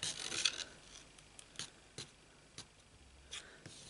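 A paper trimmer blade slices cardstock for a stamped card project in a series of faint, short scraping strokes, close and quiet, spaced irregularly over a few seconds.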